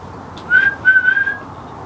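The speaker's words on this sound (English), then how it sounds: "You got a whistle back as well, man." A clear whistle rising into a sustained tone, sounding twice in quick succession, during a paranormal investigation in an ancient burial chamber, alone over quiet background hiss.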